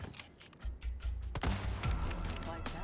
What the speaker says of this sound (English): use the rifle to kill the lone villager at the bottom